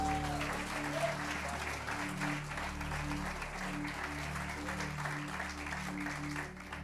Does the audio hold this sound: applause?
yes